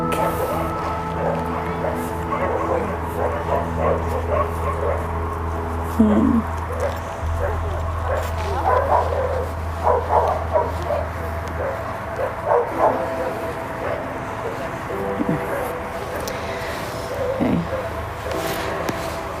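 Dogs bark, yip and whimper now and then under someone talking at length, the animal calls scattered and fairly faint behind the voice.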